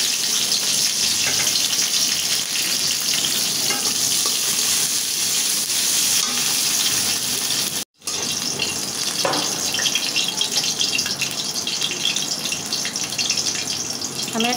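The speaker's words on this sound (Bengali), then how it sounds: "আমি এখন কাঁচামরিচ কয়টা ভেজে নেব" Green chilies frying in hot oil in a pan, producing a loud, continuous sizzle that runs steadily throughout with only a brief break midway.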